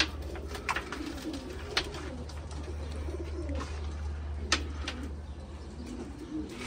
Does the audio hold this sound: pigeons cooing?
yes